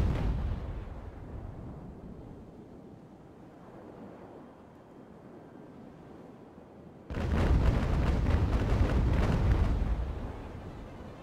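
Naval cannon fire in Ultimate Admiral: Age of Sail, a loud rolling broadside of heavy booms erupting after a stretch of low wind and sea noise, then fading out; no talk.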